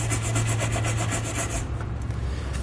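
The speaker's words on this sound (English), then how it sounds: "Come back with a nylon brush, make sure there's no dirt, debris, or rust inside that could potentially cause cross-threading" A nylon brush scrubs rapidly inside a weld nut on a 2012 Toyota Venza frame, a close, loud, rhythmic rasping that runs steadily for over a second and then eases off.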